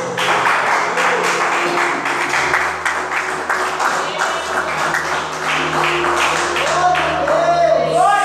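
A church congregation claps together in a dense, steady wash from start to finish, with a low sustained tone and some voices running underneath.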